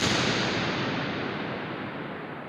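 Long reverberant decay in a highly reflective church, a broad wash of sound fading slowly and evenly without ever dying out.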